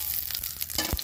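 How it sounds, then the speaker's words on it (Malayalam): Cumin seeds crackle in hot frying oil left over from frying potatoes for dum aloo, a brief close sizzle with a few sharp pops. "ഇനി നമുക്ക് ആ എണ്ണയിലേക്ക് തന്നെ 1 ടീസ്പൂൺ ജീരകം, നല്ല ജീരകമാണ്"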